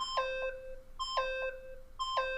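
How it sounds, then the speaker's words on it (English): Electronic beeping from the Danganronpa: Trigger Happy Havoc video game, three evenly spaced bright double-tone beeps about a second apart, clear and alone with no talking. "Stop that goddamn beeping and say something!"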